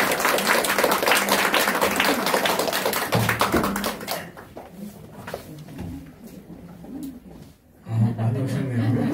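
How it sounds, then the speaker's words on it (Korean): Church congregation clapping to welcome the pastor at a Thanksgiving service, a burst of applause for about four seconds that fades into room murmur and movement, with voices rising again near the end. "우리 최우규 목사님 나오실 때 할렐루야 또 박수로 맞이하면서요"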